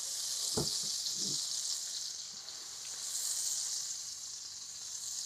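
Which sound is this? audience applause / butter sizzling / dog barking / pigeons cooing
butter sizzling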